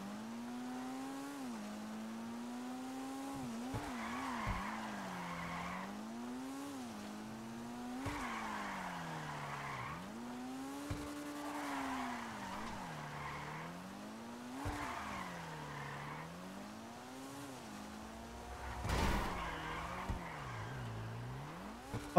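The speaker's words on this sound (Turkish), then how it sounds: "Ama araba güzel kayıyor arkadaşlar. Çok iyi kayıyor araba." Car drifting in GTA Online, engine revving in rising and falling sweeps with tire squeal across repeated slides, steady and close with no talk.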